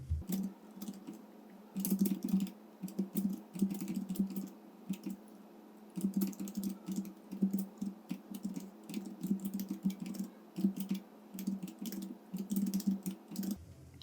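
Rapid bursts of typing on a computer keyboard while entering month names into an Excel spreadsheet, with clicky keystrokes in quick runs separated by short pauses, close and fairly quiet with no talking.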